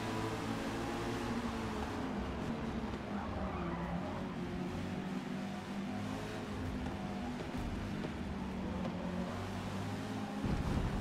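GT4 race car engines droning and tyres squealing at Lime Rock in Forza Motorsport, a steady loud blend of engine tone and skidding throughout, with no talk.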